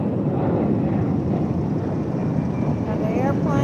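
Steady broad roar of an airplane passing overhead outdoors, loud and continuous, with a voice talking over it.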